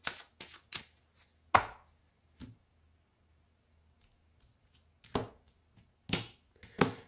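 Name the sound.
cutting a tarot card deck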